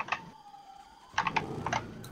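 Keys on a computer keyboard are struck hard and fast in a short burst of sharp, close clacks after a quieter moment, during a GTA 5 roleplay session. There is no talk over it.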